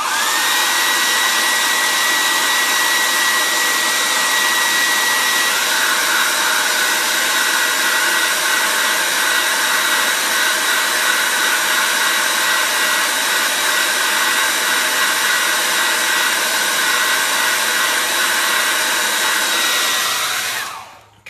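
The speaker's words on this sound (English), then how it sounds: "I've turned the hair dryer on higher" A hair dryer blows steadily at high speed, a loud continuous whooshing roar with a whine that holds for the whole stretch, then cuts off at the end.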